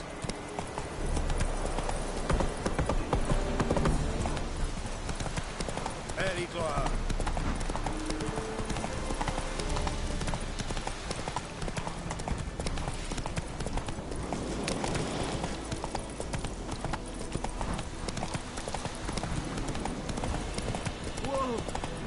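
Horse hooves galloping in The Witcher 3 video game, a dense, steady clip-clop rhythm that runs throughout at a constant, loud level, with a voice speaking over it.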